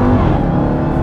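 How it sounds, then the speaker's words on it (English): Close, loud engine roar from a Dodge Charger SRT Hellcat Redeye, its supercharged V8 revving with a steady supercharger whine over a dense, continuous drone. "You get that supercharger whine."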